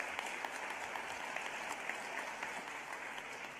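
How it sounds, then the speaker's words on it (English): Audience applause at a 2020 teacher of the year celebration: a steady, dense wash of many hands clapping throughout, with no voices rising above it. "Let's give them a big round of applause."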